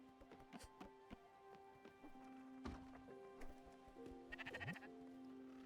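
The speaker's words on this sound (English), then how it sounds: "Oh, this sheep needs to eat." A sheep in the video game Spiritfarer bleats in short repeated calls over soft game music, with a hollow trotting clip-clop and a brighter bleat rising near the end.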